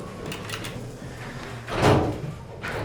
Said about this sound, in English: Thyssenkrupp door equipment.